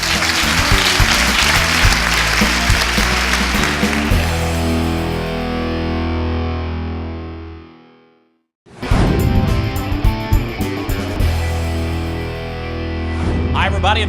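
Studio audience at a live Louisville cooking show's kitchen theater breaking into loud, sustained applause and cheers, with a brief dropout midway before the clapping and whoops resume strongly.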